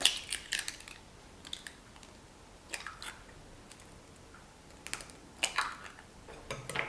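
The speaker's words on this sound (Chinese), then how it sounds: "碗中打入3颗鸡蛋" Three eggs are cracked into a bowl one after another, each giving a few quiet, crisp taps and cracking snaps separated by short pauses in an otherwise quiet kitchen.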